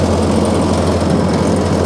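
A tractor runs with its PTO engaged, driving a brush hog rotary cutter, and gives off a loud, close, constant engine drone with a steady low hum. No one speaks.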